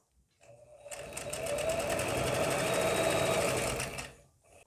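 A sewing machine stitches fabric for a small rolled cushion, starting up and running steadily at a fast, even whir for several seconds before stopping, close and alone.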